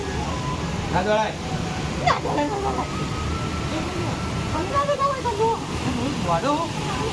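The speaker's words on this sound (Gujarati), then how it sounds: "શું પાણી મસ્ત આવે છે" Water rushing steadily in a broad continuous roar, loud and close, while several people talk and call out over it.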